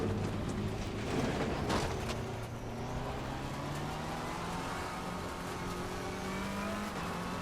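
Race car in a racing video game cruising on cold tyres, a continuous engine drone with gliding harmonic pitch as revs shift, brief tyre noise early on, steady and close with no talking.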